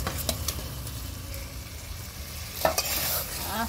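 Spice masala for an egg curry fries and sizzles in a pan, a soft continuous crackle broken by occasional scrapes and clinks of a stirring spoon, fairly quiet and close with no talking.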